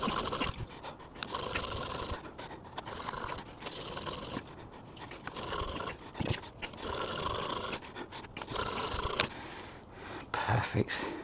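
A chisel is sharpened on a stone on site, with repeated close rasping and scraping strokes in an uneven back-and-forth rhythm, quiet overall and continuing through the stretch.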